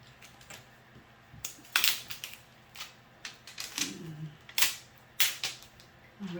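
Scissors cutting through a very thick plastic cover sheet from a diamond painting kit, a close series of sharp snapping crunches and clicks at an uneven pace, quiet room around it.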